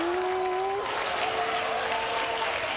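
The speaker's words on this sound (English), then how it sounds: "it's very cheery, very much cheering" Studio audience applause and cheering at a late-night comedy show, a steady, dense wash of clapping filling the whole stretch, with a brief tonal note fading out early on.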